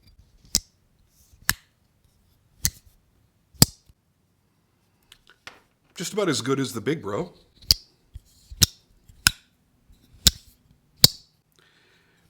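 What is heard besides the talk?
Jack Wolf Little Bro Jack pocket knife blade snapping open and shut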